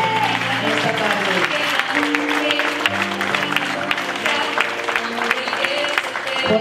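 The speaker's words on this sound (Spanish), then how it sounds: "Damos un aplauso esta tarde." Congregation applause at a church celebration for a man and his mother, clapping under loud music with sustained tones and a voice speaking through it.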